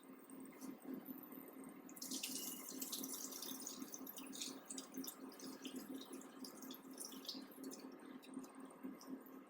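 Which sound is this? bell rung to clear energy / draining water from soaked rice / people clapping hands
draining water from soaked rice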